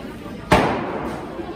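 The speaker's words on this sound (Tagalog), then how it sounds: "oh, paputok, hindi pa tapos ang New Year." A single sharp firecracker bang goes off outside during post-New Year celebrations, a sudden loud crack followed by a short fading tail over low background noise.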